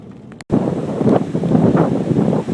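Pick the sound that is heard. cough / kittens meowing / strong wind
strong wind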